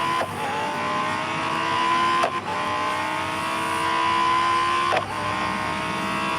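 A race car engine in Real Racing 3 revs hard and loud, climbing in pitch through the gears with two quick shift breaks, a steady synthetic whine heard alone.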